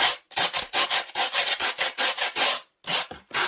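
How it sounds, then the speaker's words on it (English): Rough rhythmic rubbing of a piece of foam used like a sanding block, scrubbing back and forth, about a dozen strokes close up with two brief pauses. "take part of your foam, and you're just going to use it like a sanding block"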